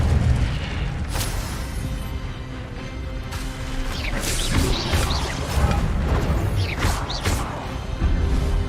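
Fire spell blasts in Hogwarts Legacy: a dense, continuous barrage of booming, crashing impacts and whooshes during a hectic magic fight, loud and unbroken throughout.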